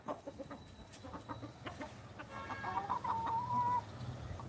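Stressed hens kept in a coop cluck in a steady, moderately close stream of short calls, with one longer drawn-out call rising partway through over light background noise.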